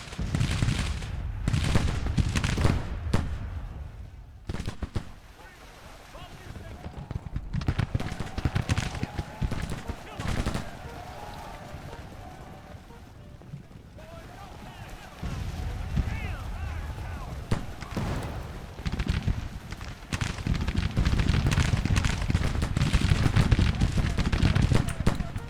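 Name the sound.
musket gunfire in the video game Grand Tactician: The Civil War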